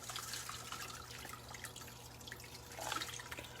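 Chili soaking liquid from steeped charred guajillo peppers is poured into a pot of pozole, making a steady watery splash and trickle with one brief louder gush near the end.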